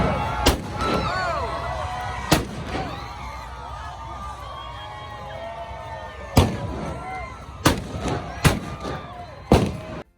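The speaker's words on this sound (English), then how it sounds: "some of the floats that go by have cannons" Cannons fire from passing Gasparilla pirate parade floats, six or seven sharp, loud booms spaced irregularly over a steady crowd murmur and scattered voices.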